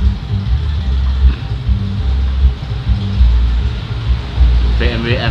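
A lowered BMW M3 on a test ride, a loud low engine rumble and road drone from inside the car with uneven swells, and a brief voice near the end.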